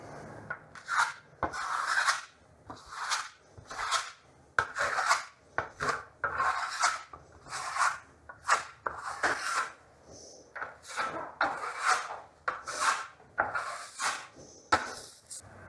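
Steel trowel rasping across a wall as the last coat of VASARI Veneziano plaster goes on, a run of rhythmic, close scraping strokes with short gaps between passes.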